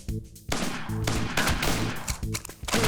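Electronic gunshots from the Point Rescue light gun arcade game ring out in quick bursts, several shots clustered with short pauses between, loud and steady over continuous game music and effects.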